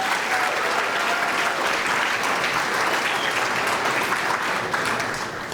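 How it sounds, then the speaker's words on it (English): Audience at a State of the City address applauding the city's Public Works staff: sustained, dense clapping from a large crowd, steady and loud throughout, tapering slightly at the end. "So give Public Works a big round of applause."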